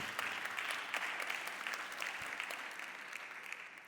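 A church congregation claps loudly during a sermon, a steady wash of many hands that holds throughout and eases slightly at the close.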